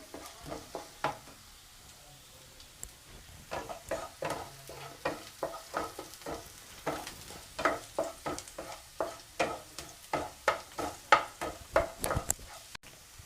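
Dried red chillies fry in oil in a pan for broken-wheat upma. A spoon stirs them with steady rhythmic scrapes over a soft, continuous sizzle.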